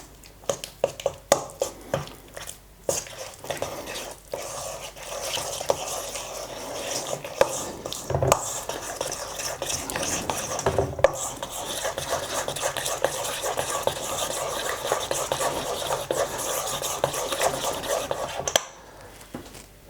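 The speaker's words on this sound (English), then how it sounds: "Mix yolks and melted chocolate." Egg yolks and melted chocolate are mixed in a bowl, giving continuous scraping and clattering stirring strokes for most of the time, close and moderately loud, with a few sharper knocks before it stops near the end.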